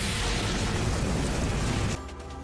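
An anime fire style fireball jutsu explosion roars as a dense, loud, sustained burst of noise for about two seconds, then cuts off abruptly to a quieter tail.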